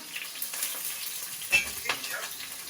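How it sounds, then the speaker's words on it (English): Oil, spring onions and ginger hit a hot wok for Szechuan-style chicken, giving a soft, steady sizzle with a brief sharper crackle partway through, fairly quiet and with no talking. "So in goes the oil, spring onions, ginger."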